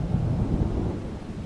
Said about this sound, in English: the rain is picking up